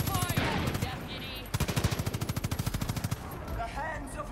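Rapid machine-gun bursts in the shooter game Far Cry 5, a fast even rattle of shots loud and close, with scattered combat noise and brief talk around it.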